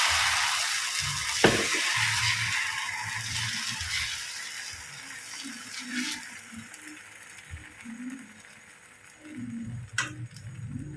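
Wheat rava dosa batter hits a hot pan and gives a broad, hissing sizzle that is strongest at first and then eases, mixed with occasional low knocks and clatter.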